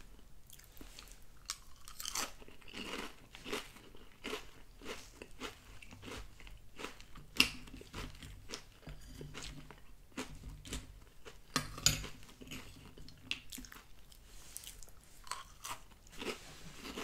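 Cinnamon Toast Crunch cereal in milk is chewed close to the microphone, steady crunching and wet bites with faint clinks of a spoon against a bowl, quiet and intimate without talk.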